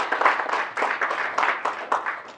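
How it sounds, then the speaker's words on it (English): Audience applause after a group presentation at the Native Edge Institute in Albuquerque, New Mexico: a short burst of moderately loud clapping, with slight swells in the rhythm throughout. "Let's give them a big round of applause."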